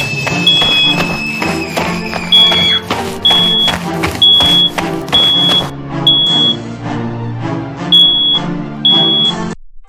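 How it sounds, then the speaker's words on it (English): A fire alarm beeps in a school, sounding a string of sharp, high electronic tones at a steady rhythm, about one per second, over loud, busy background noise. "Why is the fire alarm going off?"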